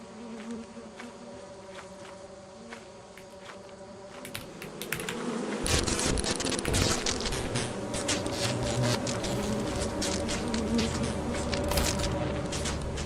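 Insect buzzing from bees in a video game, a steady hum that grows louder after a few seconds and continues with clicky keyboard-like tapping over it.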